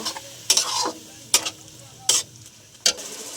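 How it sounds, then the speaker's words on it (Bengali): Chicken sautés with ginger garlic tomato paste in a hot pan, a soft sizzle punctuated by four distinct scraping strokes of a spatula at even intervals. "আদা রসুন টমেটো পেস্ট দিয়ে দিলাম ভালো করে কষিয়ে নেব"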